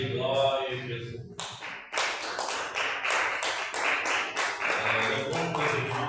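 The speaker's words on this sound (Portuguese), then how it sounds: "Palmas e glória a Jesus." A church congregation claps during a service, a dense run of hand claps with rhythmic accents near the start and a voice audible beneath it early on.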